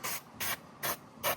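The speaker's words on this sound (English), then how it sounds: "I'm just gonna start kind of spraying" Cleaner is sprayed onto a Rivian tonneau cover in four short, evenly spaced hissing bursts. The trigger pulls sound close and crisp, with no talking.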